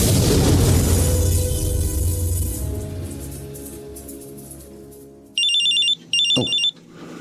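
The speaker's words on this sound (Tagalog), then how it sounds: "May tumatawag sa cellphone ko." A cellphone rings with an incoming call inside a prison, two loud bursts of a repeating electronic ringtone sounding clearly after a fading low rumble.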